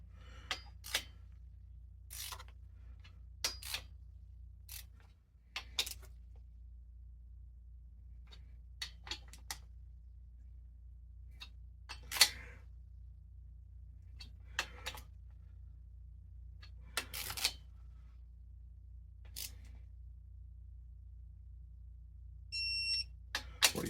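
Torque wrench clicking as engine bolts are tightened in a quiet garage: sharp, isolated clicks at irregular intervals over a low background hum.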